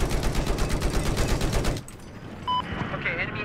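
Rapid machine-gun fire rattles steadily in a Battlefield 4 multiplayer match for nearly two seconds, then cuts off to quieter game sounds and someone talking.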